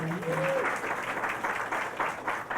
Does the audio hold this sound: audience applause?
yes